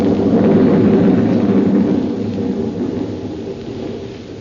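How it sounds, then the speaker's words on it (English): A sustained, loud, low rumble of thunder rolls continuously and fades slightly as it goes, like a vintage radio-drama sound effect, with no voices over it. "There was thunder and lightning around me, too."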